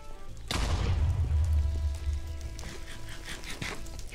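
Deep, booming explosion in the Minecraft game, near blackstone and lava, that hits suddenly and leaves a long, rumbling reverberating tail that slowly fades.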